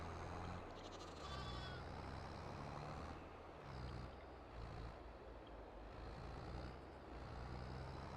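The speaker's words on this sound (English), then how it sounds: "Those sheep are so cool." Sheep bleat now and then over a steady low engine rumble on a farm during wheat harvest, with a few short tonal calls rising above the constant machinery noise.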